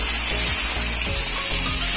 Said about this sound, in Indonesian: Sekarang kita lagi menggoreng udangnya.